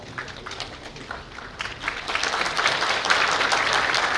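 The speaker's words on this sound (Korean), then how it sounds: "큰 박수 부탁드립니다" Applause at a high school graduation ceremony in Korea, starting with scattered claps and swelling into loud, sustained clapping from a large audience, with no talk over it.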